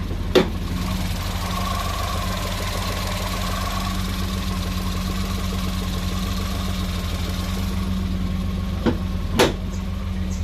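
A Maruti Alto 800 engine idles steadily and close by, with a continuous low hum and faint rhythmic ticking, its RPM fluctuating slightly; a couple of brief knocks are heard near the end.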